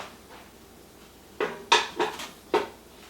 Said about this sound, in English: take our jar lifter. Pull these jars out one at a time